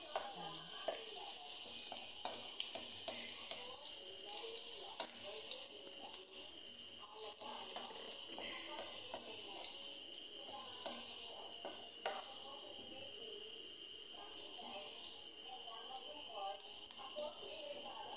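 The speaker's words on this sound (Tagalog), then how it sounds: "Ang garlic natin, i-brown lang natin siya." Garlic browning in a pan while being stirred, a faint, steady sizzle with light scraping and some running water in the background.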